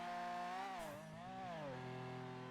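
An X-class car engine in GTA V NoPixel roleplay whines with a buzzy, harmonic tone. The pitch dips and rises as the car shifts through gears, loud and continuous with no voices.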